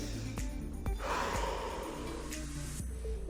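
Deep breaths during a workout cool-down in child's pose: a few close, audible inhales and exhales with soft gasping, snorting air sounds in a quiet room.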